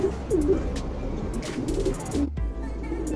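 A Guldar pigeon cooing nearby in a couple of soft, low rolling phrases over steady background noise and faint chirps from other birds.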